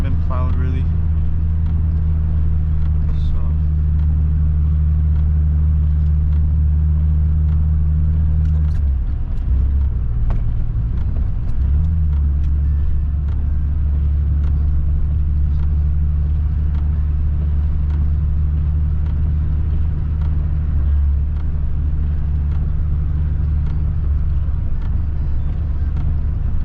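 A Nissan 300ZX drives through a blizzard on unplowed snowy roads, heard from inside as a loud, steady low engine drone that dips briefly partway through before resuming.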